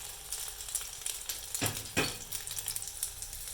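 Eggs fry in cooking oil in a pot at an Ugandan street-food stall, giving a steady close hiss and sizzle. Two louder crackling bursts near the middle suggest the eggs hitting the hot oil, and no one speaks.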